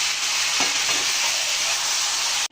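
Bihari chicken cooking in a pot gives off a steady, loud frying hiss, with a couple of brief stirring scrapes near the start, before cutting off abruptly.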